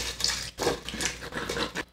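Fermented hot sauce mash with carrots is poured through a strainer into a bowl, giving soft splashing, wet pouring bursts with brief pauses, fairly quiet and close, without any voices.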